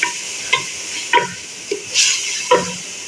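Garlic-ginger paste sautéing in a pan for Hyderabadi khatti dal, with a steady low sizzle broken by several sharp spoon-stirring scrapes and taps spaced about half a second apart, up close and with no talking.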